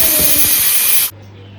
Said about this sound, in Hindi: अब 1 सीटी में हमारा पुलाव बन जाएगा।